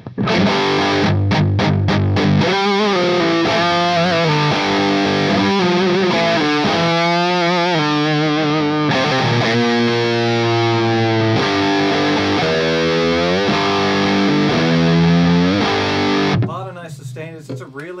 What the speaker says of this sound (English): Harmonic distortion that they've got going on here.